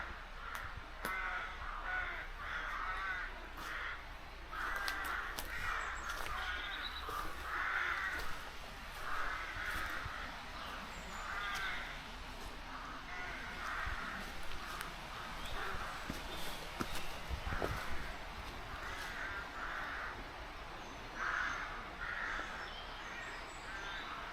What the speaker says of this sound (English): I like the crows